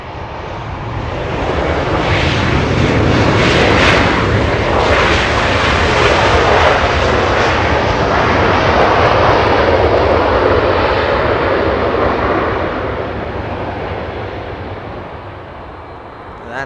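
Heavy jet airliners roar at Los Angeles International Airport, a loud sustained engine rumble that swells and holds for most of the stretch before easing slightly near the end, with no talk over it.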